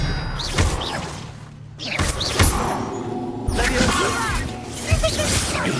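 The Expelliarmus spell is cast in Hogwarts Legacy amid combat, with a series of sharp whooshing blasts and heavy thuds recurring every second or so, layered over background battle noise.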